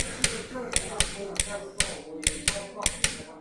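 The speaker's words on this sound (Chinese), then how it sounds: "这是它正常的倒针声音。" A Shanggong sewing machine doing reverse stitching gives off a rapid series of sharp mechanical clacks, about a dozen ticks at an uneven rhythm, close and fairly loud over a low hum.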